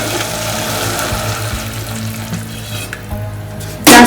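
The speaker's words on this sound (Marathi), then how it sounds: "थोडंच टाकले मी पाणी." Hot water poured into cooked ground masala paste for a Bombil (Bombay duck) rassa, giving a loud steady sizzle and frying hiss that continues throughout, with a sharp louder burst right at the end.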